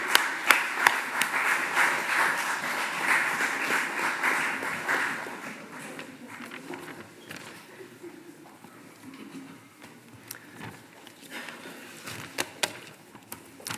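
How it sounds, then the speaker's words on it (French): A congregation at a regional Protestant temple dedication service in St-Etienne applauds, a full crowd clapping loudly at first, then thinning and fading to scattered claps with some murmuring. "C'est bien, on peut applaudir."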